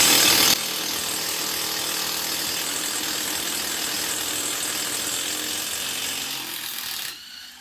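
A 3/8 impact wrench works on stubborn, Loctite-treated bolts during an engine replacement on a Bad Boy Maverick zero-turn mower, making a loud, sustained buzzing rattle that runs steadily for several seconds before cutting off.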